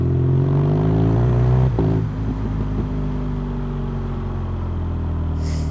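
A motorcycle engine runs close by with a deep steady rumble and a brief clattering shift as the revs drop and settle to a lower idle.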